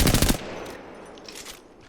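An R301 rifle with a purple magazine firing from the hip in the video game Apex Legends, a quick rapid burst of close, loud shots that ends abruptly and leaves a fading tail.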